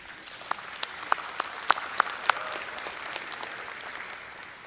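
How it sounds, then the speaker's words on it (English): Graduates and guests applauding at a university commencement ceremony, steady distant clapping from a large hall with a few sharper nearby claps standing out. "offer a round of applause to those groups and thank them for their support"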